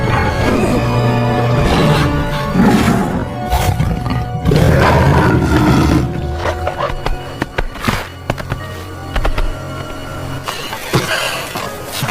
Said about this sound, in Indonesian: Lagi-lagi harimau itu mengaung di wajah Dele